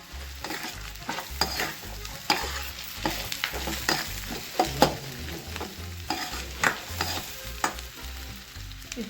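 Peanuts stirred and fried in a pan for a hotel-style Telugu peanut chutney, with steady scraping strokes against a low oily sizzle, close and continuous without talk.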